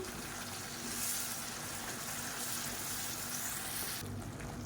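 Onion, garlic and blended tomato sauté for a South Indian fish curry, giving a steady, dense sizzle and frying hiss that lasts throughout and changes slightly near the end.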